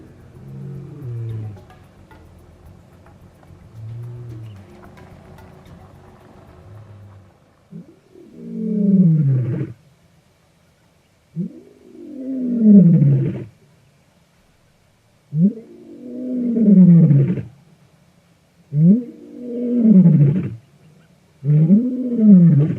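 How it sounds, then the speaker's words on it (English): A big male lion on an African safari roars close to the vehicles, about ten meters away, a rumbling purr-like lead-in followed by a series of loud, deep grunting roars in rhythmic bursts with short pauses between. "A big male gets up and walks right up to the cars within 10 meters and plops himself down and starts roaring"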